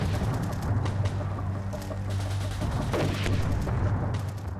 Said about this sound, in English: Lyle orders mortar fire.